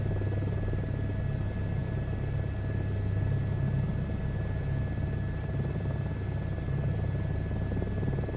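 Helicopter flying in the SU2 Beta flight simulator, a steady continuous rotor and engine drone with low rumble, even and unbroken throughout.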